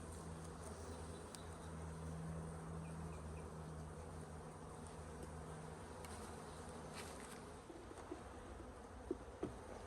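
Honey bees buzz around a honey-producing beehive in spring, a dense continuous drone of many insects close by with a faint steady hum underneath and no talk.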